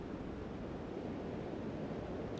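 Ocean waves washing up on a beach form a soft, continuous roar of surf, steady and distant, with no voices over it.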